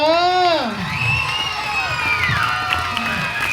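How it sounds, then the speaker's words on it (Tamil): Audience at a puppet show cheering and whooping loudly, with children shouting over a crowd roar that stays strong throughout; clapping is not clearly separable from the voices. "ஒரு கைத்தட்டல் போடுவோமா?"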